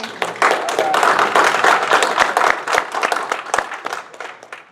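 An audience at an evening candidates' night event applauds steadily, with dense, loud, sustained clapping and sharp individual claps standing out throughout, while voices mingle faintly beneath it.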